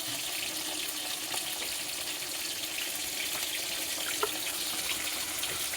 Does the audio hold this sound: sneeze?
no